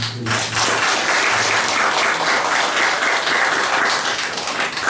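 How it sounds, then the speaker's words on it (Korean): A church congregation claps in welcome for a newly registered member during a Sunday service, a dense, steady wash of applause filling the room for about five seconds after a brief opening. "우리 환영의 박수"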